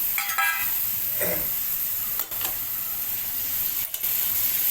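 Soft sizzle of kilis fish masala frying in oil in a pan, with a few brief scraping stirs of a spoon, fairly quiet and close.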